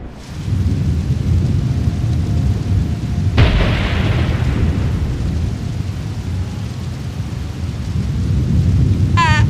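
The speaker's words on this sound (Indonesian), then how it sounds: "Aku berteduh di sini saja sambil menunggu hujannya berhenti." Thunderstorm with steady heavy rain: a continuous loud rumbling roar with a sharp thunder crack partway through, and rain hissing throughout.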